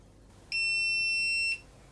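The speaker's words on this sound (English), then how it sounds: "right here, one long beep." An electric pruner with finger detection gives one long, steady electronic beep lasting about a second, clear and close against a quiet background.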